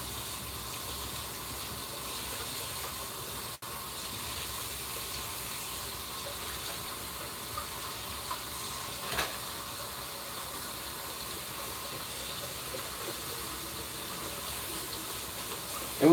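A Keurig coffee machine fills with water and hisses steam: a quiet, steady rush and hiss runs unbroken throughout, with a few faint knocks and no talking.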